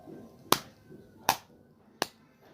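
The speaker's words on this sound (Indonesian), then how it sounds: "Suara tepuk tangan Adnan memecah keheningan di ruangan itu." Three sharp, isolated hand claps ring out one after another in a quiet room, spaced slightly under a second apart, crisp and close with no talk, as a sound effect in a narrated audio story.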